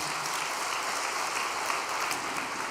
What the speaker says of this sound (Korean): 공주교회를 위해서 다시 한번 큰 격려의 박수를 보내주시기를 바랍니다.